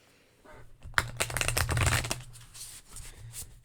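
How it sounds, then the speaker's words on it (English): A deck of tarot cards is riffled and shuffled repeatedly, with quick crisp flutters and soft slaps, close by and with no talking. "I'm going to start shuffling the deck"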